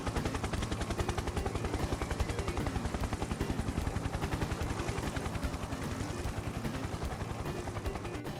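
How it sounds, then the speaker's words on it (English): A game helicopter in Farming Simulator 22 runs loud and close, its rotor producing a rapid, steady chopping pulse layered over a dense mechanical roar throughout. "Damn, is that helicopter loud."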